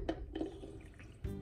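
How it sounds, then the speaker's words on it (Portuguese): Water running into a stretchy Spider-Man anti-stress ball as it fills, a steady low gurgling flow with a few brief splashy bursts, close and fairly quiet with no talk. "agora vamos encher de água aqui o Homem-Aranha."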